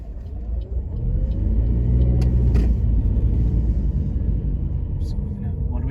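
A car pulls out and drives off during a driving lesson, heard from inside as a steady engine rumble that swells and holds while the vehicle moves, with brief knocks and clicks over it.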